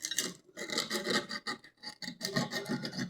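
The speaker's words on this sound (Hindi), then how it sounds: "तो दोस्तों अब हम रेगमाल से पॉइंट को साफ़ करेंगे अच्छी तरह आपके सामने" Sandpaper rubbing the contact points of an electric iron during a home repair, heard as close, dry rasping scrapes in irregular back-and-forth strokes with brief pauses between bursts.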